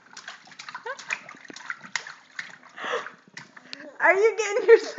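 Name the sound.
child splashing water in bath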